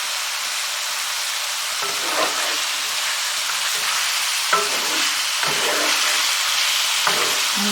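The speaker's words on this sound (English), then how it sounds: "the thing that I find with rabbit meat is you do need to fry it off quite hard" Rabbit meat frying hard in a hot pan, a steady broad sizzle with occasional stirring scrapes and crackles, close and continuous, no voices.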